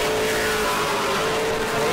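Pro Late Model race cars roar around the short oval at New Smyrna, a dense, continuous engine drone of several cars bunched together heading into a turn, loud and steady with no talk.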